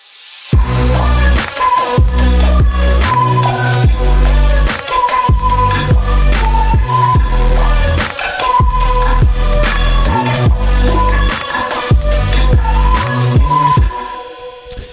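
Loud, punchy synth music built in UVI Falcon from chopped, resynthesized vocal sounds, with rhythmic stabs and heavy bass hits repeating throughout.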